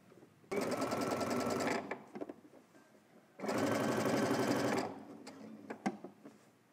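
A sewing machine stitches a collar seam just past the seam allowance on the under collar, in two loud steady runs of rapid needle stitching separated by a pause with light handling noises.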